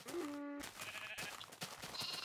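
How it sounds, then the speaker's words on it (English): Sheep bleat in the Minecraft video game, several short wavering calls in a quick cluster, with brief game sound effects between them and no talking. "Another breeding and producing offspring. Baby sheep."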